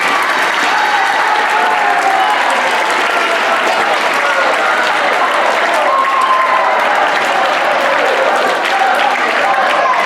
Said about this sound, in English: So let's give our teachers a big round of applause.